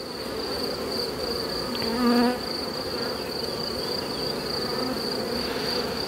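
Honeybees buzzing around an open hive during a check of swarm colonies, a steady close droning hum with a persistent high whine, no talk.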